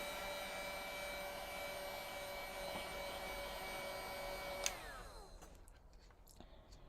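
A heat gun runs with a steady, droning whine and hum for several seconds, then clicks off and winds down into quiet.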